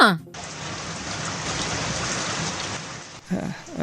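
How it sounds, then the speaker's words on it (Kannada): Steady, heavy rain pours down in a dense hiss, with brief muffled voices at the very start and end. "ನೋಡು ಅಲ್ಲಿ ಮಳೆ ಹೆಂಗ್ ಸುಲ್ಕತ್ತಿದ್ ನೋಡಲ್ಲಿ"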